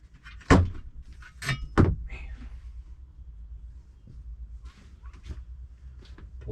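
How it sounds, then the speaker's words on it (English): A pop-up camper door being pulled down, a couple of sharp loud thunks and rattles close by, followed by quieter shuffling and light knocks. "is you pull down the door"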